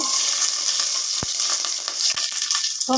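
Mustard seeds, green chilies and garlic cloves dropped into hot oil make a continuous close sizzle, broken by a few sharp crackles and pops as the seeds spit.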